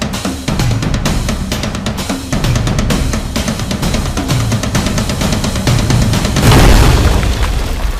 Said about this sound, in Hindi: लगता है दूसरे दरवाजे पर धमाका हुआ है।